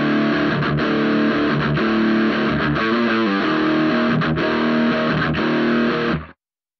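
A heavily distorted electric guitar through a Headrush Prime with a boosted preamp plays thick, saturated chords and riffs continuously at high volume, then cuts off abruptly near the end.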